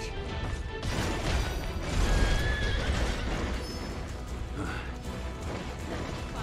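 A horse whinnies in the action role-playing game Stranger of Paradise, amid dense in-game combat noise with clattering hooves and crashing impacts throughout.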